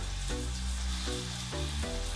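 Lamb chops sizzle steadily in a hot frying pan, a continuous close crackle with no voices over it.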